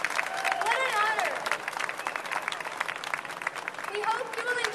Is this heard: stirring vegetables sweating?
no